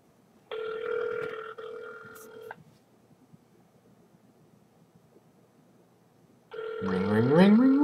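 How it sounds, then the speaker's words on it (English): Phone call ringing heard through a League of Legends stream, two electronic ring bursts separated by quiet, the second rising in pitch with a voice starting underneath. "It's ringing."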